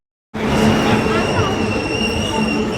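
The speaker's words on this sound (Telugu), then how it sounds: "సో ఫైనల్గా అయితే ట్రైన్ వచ్చింది" A superfast express train pulls into a station, its steady rumbling wheel and carriage noise starting abruptly and holding loud and close, with a faint high squeal over it.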